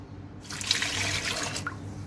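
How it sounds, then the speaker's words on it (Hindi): Water pours into a pressure cooker holding potatoes and peas with garlic, salt, chillies and turmeric, a steady close splash lasting about a second before tapering off, with no talk over it. "साथ में डाल दूँगी मैं पानी"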